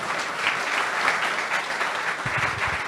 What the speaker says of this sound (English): And another huge round of applause for Boris, who had the much more difficult job today.